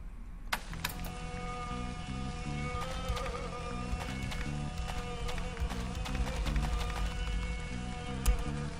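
Steady buzzing of flies in a Japanese horror video game plays quietly, a continuous drone over a repeating low game tone, with faint clicks throughout.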